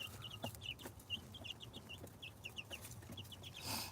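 Farmyard chickens, including meat birds, clucking in a steady scattered run of short calls over a low outdoor rumble, with no talking.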